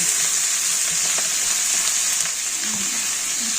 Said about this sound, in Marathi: हे टमाटे पण याच्यात टाकून घेतले आणि हे आता थोडंसं परतवते मी